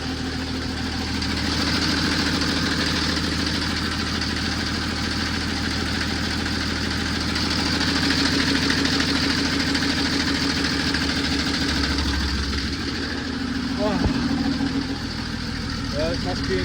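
Diesel engine of an old Volvo TGB 11 C303 off-road truck running steadily at close range, a loud continuous low rumble with a slight rise midway, under occasional voices.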